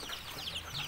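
Newly hatched chicks peep in a steady, overlapping chorus of thin high chirps, close and continuous for under a second, with no talking.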